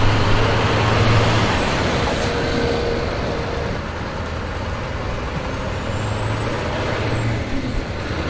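A dump truck loaded with soil strains while stuck, its heavy engine droning loudly and steadily at close range without moving, with a faint hiss of air partway through.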